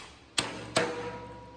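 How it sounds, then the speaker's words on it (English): A small machinist hammer taps a fitting into the carburetor of an air-cooled VW engine: two sharp, close metallic strikes about half a second apart, each ringing briefly. "I have this small machinist hammer here"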